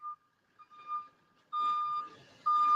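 A vehicle's reversing alarm gives out thin, repeated electronic beeps that start faint and intermittent, then come through louder and longer against a rougher background noise.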